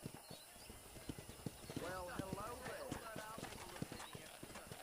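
Horse hooves clip-clopping at a ranch corral in the video game Red Dead Redemption, a steady close rhythm of hoof strikes with a brief whinny, under someone talking.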